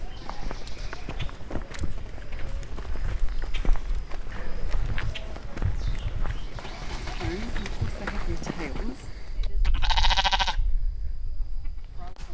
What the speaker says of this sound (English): Walking up the mountain here, we found some sheep.